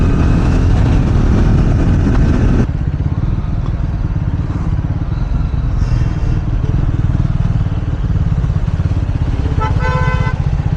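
A Triumph Scrambler 400 X motorcycle turning in second gear at low torque without the clutch pulled, its engine a loud, close, steady drone that eases off after a few seconds, with wind buffeting and a short horn-like toot near the end.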